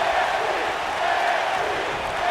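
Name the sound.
wrestling crowd cheering in video game WWE 2K19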